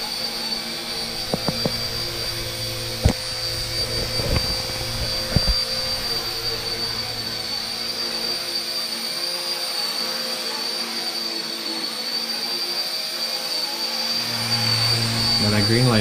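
RC Era C032 UH-1 Huey ready-to-fly RC helicopter hovering outdoors: a steady whining motor and rotor hum runs throughout at moderate distance, with a few soft clicks and someone talking at times.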